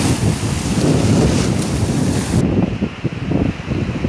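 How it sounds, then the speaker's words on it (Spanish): Strong ocean surf at Telchac Puerto on the Yucatán coast, a loud continuous wash of waves buffeted by heavy wind noise on the microphone, with no speech. "en estos momentos está un poquito más fuerte el oleaje"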